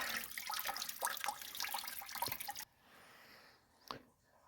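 Fluid drains from a Toyota 4Runner during an oil change, a soft trickling and dripping that stops abruptly partway through, followed by a quiet pause and one more faint drip.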